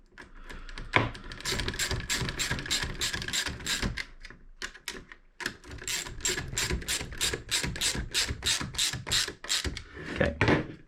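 Ratcheting wrench tightening bolts on the pivots of a 2018-2020 Daymaker alpine adapter, a close run of quick rhythmic clicks in bursts with a brief pause midway, no talk.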